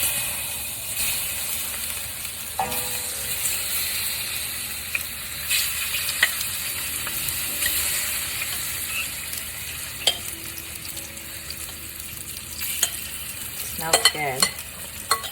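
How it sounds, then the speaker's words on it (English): Chicken pieces stir-frying in hot avocado oil, a steady close sizzle and hiss running throughout with occasional scraping and stirring clatters, one brief spoken remark midway. "I'm gonna add the chicken."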